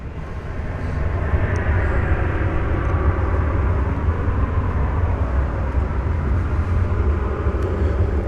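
An American Airlines Airbus A321 jet roars at DFW Airport at night, a broad, steady engine rush that swells after the first second and holds loud throughout.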